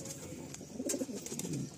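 Madrasi and Giribaj pigeons at a loft give a run of soft, low throaty coos, overlapping and fairly close, with a steady murmur of other birds behind.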